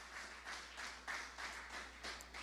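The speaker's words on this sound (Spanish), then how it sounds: "Le pongo una ofrenda de palmas al Señor." Church congregation clapping together as an offering of praise to the Lord during a Sunday service, steady rhythmic applause in bursts roughly every half second, moderately distant and fairly quiet, with no voices over it.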